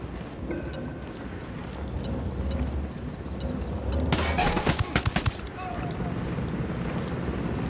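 Gunfire from UNIDAD forces shooting at the cartel in Ghost Recon Wildlands, with a burst of rapid automatic shots in the middle over a windy, rumbling background.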